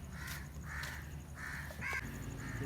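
Crows give about five harsh caws in a row at a moderate distance. The calls are evenly spaced over faint background hum, with no talk.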